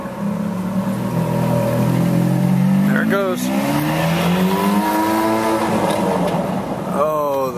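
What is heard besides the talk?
Ferrari 430 engine revving, loud exhaust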